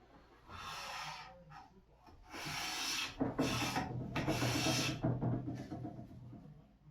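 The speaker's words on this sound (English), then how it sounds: "Continual, full length, full width, thin, micro thin shavings." A hand plane with a freshly ground iron slices thin, full-length shavings off a wooden board, giving four long, even rasping strokes separated by short pauses, close-up and clear with no talking.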